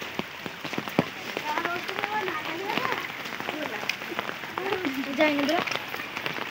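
Heavy rain pours onto a group out fishing under umbrellas, a dense, steady hiss of drops drumming on surfaces with occasional louder taps, while people talk over it.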